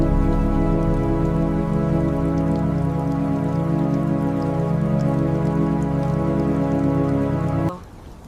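Black rain falling in a steady, dense patter on surfaces around the listener, loud and continuous for about seven and a half seconds before cutting off abruptly.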